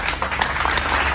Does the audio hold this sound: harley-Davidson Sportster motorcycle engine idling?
no